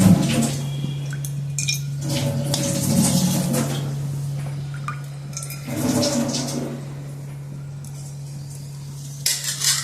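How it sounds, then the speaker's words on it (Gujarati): Oil poured from a kadhai already filled with oil into a pan, giving liquid trickles, drips and light metallic clinks of the pot against the pan over a steady low hum, in bursts with pauses between. "એમાં તેલ નાખીશું."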